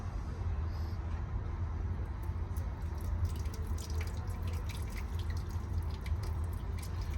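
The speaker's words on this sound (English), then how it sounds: "Hot water from the Arga." Hot water poured from an Aga kettle runs in a steady splashing, dripping stream for several seconds, with a low rumbling hum underneath and no talking.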